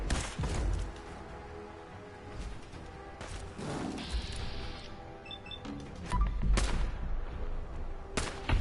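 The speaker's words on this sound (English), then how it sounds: "that was a laser sniper rifle" A laser sniper rifle fires in the video game Fallout 4, giving several sharp, loud discharges spaced a few seconds apart over a low background rumble, with brief tonal chirps in between.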